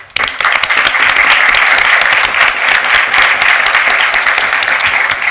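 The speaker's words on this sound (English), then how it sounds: "Let's give them a round of applause." Loud audience applause at a school district board of education meeting, breaking out sharply after a brief pause and continuing as a full, dense clapping from a sizable crowd.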